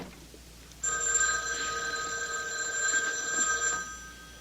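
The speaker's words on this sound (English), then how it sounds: "It was the house phone." A house telephone rings in an old-time mystery radio drama, a steady electric bell trilling for about three seconds alone before cutting off.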